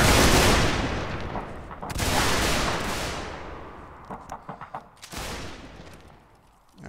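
Volleys of musket fire from a Mount and Blade Warband battle crash out in loud rolling bursts, with a scatter of sharper individual shots trailing between the larger volleys.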